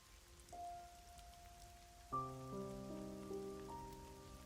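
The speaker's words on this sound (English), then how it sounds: "Why is it raining blood?" Soft, faint rain in the video game God Eater hisses steadily beneath sustained synthesized musical tones that enter partway through and layer into a chord.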